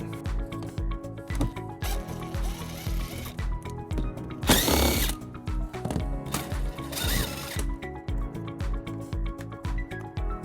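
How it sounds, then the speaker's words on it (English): A ratchet with a 10mm socket removes bolts from an underbody panel of a 2018 Tesla Model S, producing rapid rhythmic clicking bursts with a couple of louder whirring spells, close and without talk. "We're going to remove those using a 10mm socket."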